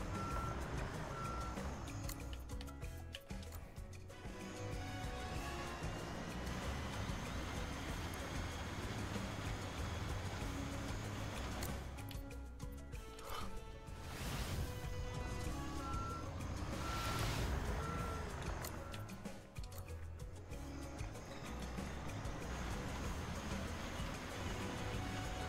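A truck in the Road Work Construction Simulator 2022 game backs up with a steady, repeating reverse beep over a rumbling engine. The beeping continues through the whole stretch, and the rumble rises and falls slightly.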